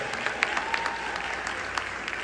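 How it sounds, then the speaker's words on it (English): An audience at a city State of the City address applauds the East Orange public works department, a moderate crowd clapping steadily with a few louder individual claps popping out over the even background. "I'll give our DPW department a round of applause."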